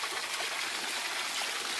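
Water gushes strongly from a spout beside a remote house in rural Cianjur, a steady, loud, hissing rush that fills the whole moment without pause and has no voices over it.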